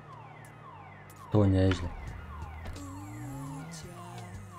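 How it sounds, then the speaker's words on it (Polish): Car alarm in the FiveM video game blares out suddenly partway through, a loud pulsing tone over a steady background drone, then drops back while someone speaks briefly. "wyłącz ten alarm"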